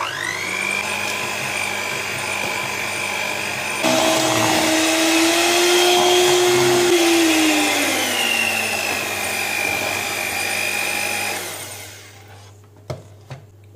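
An electric hand mixer whirs loudly and steadily through cake batter of flour, baking powder and vanilla, its motor pitch shifting as speed changes before winding down to a stop, followed by a few clicks and knocks.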